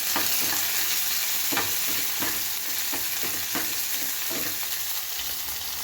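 Onion pieces fry in hot oil with cumin, mustard seeds and dried red chilies for a buttermilk curry, giving a loud continuous sizzle broken by regular scraping stirs of a spoon.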